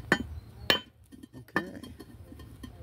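A Fox River geode is cracked with a hammer, producing three sharp, hard clinking strikes spaced apart, near and crisp, with quiet stretches between them.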